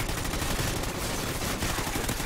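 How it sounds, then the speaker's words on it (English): Rapid, continuous automatic gunfire in the video game Call of Duty: Ghosts, a dense unbroken burst of shots filling the whole stretch. "I just put 100 bullets in that guy and he didn't die."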